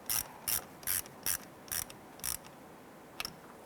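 A ratchet wrench snugs down the ground terminal on a car battery of a 2007-2012 Nissan Versa, with six or seven short bursts of rapid clicking close by, separated by brief pauses, and no talking.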